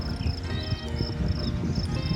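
Crickets chirp steadily beside a mountain stream on a summer trail ride in the Utah mountains, a faint high trill repeating in short bursts over the continuous rush of flowing water.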